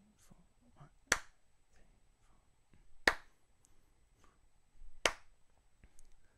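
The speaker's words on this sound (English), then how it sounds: "We're going to clap and of one every measure" Three sharp hand claps land about two seconds apart, one per measure on the off-beat after one, crisp and close in an otherwise quiet room.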